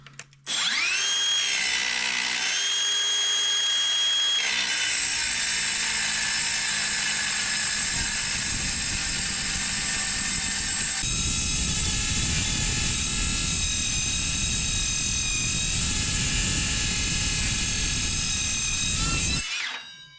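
A battery-powered cutting tool with dull carbide teeth spins up with a rising whine, then grinds loudly and continuously through metal while throwing sparks, a harsh close roar with pitch shifts before it winds down at the end.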